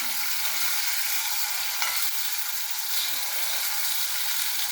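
Tomatoes sautéing in a pan for red chili chutney give a loud, steady sizzle with occasional soft stirring scrapes, close and continuous throughout.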